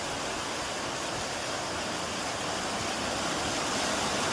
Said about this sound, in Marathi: आता हा झरा बघा,